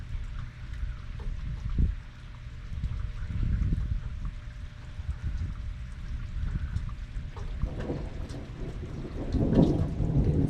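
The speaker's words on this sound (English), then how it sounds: "It actually is real thunder." Rolling thunder rumbles low and heavy through a steady rainstorm, with several swelling booms rising over continuous rain, the loudest surge near the end.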